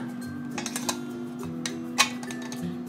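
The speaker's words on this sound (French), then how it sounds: "Je vais mettre le couvercle." An air fryer lid is set onto the basket with a few light plastic clicks and taps over a steady appliance hum, the loudest knock near the end.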